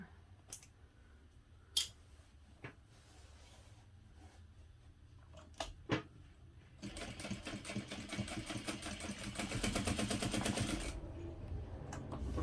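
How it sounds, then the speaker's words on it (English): A sewing machine bastes along the top seams of a hobo bag: scattered clicks and thumps first, then a steady rapid stitching run for several seconds that ends abruptly, close up and moderately loud. "now I'm going to baste in place just along the top seams here"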